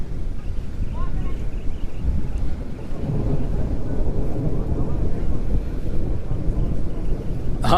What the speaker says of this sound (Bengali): আকাশে মেঘের ঘন ঘটা মেঘ ডাকছে